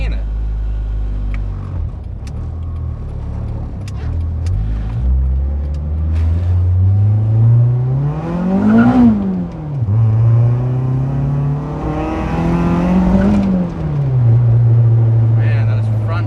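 A K-swapped Honda CR-V with a custom exhaust revs hard as it accelerates, the engine note rising in two long sweeping pulls and dropping back between them, loud and close throughout, with someone talking over it.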